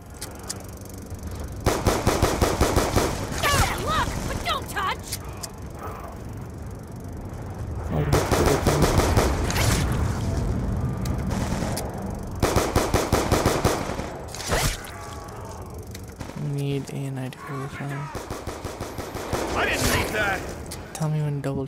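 Rapid automatic gunfire bursts from Call of Duty: Black Ops 2's Die Rise zombies map come in loud repeated volleys mixed with game effects, while a player talks over much of the action.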